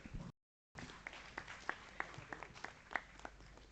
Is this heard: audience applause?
yes